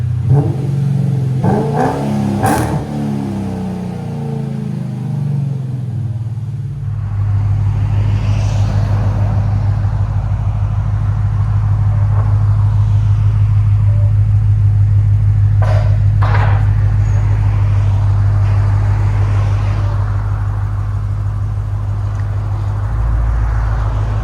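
A supercharged Chrysler 300 engine with a Demon supercharger, headers and Flowmaster Outlaw mufflers roars steadily after a few seconds of clanking, revving and holding at high volume with a heavy, rumbling exhaust tone.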